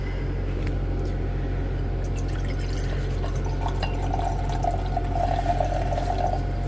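Liquid pours steadily from one beaker into a bigger beaker during silver refining from copper cell slime, a continuous close splashing trickle over a constant low hum, with faint drips.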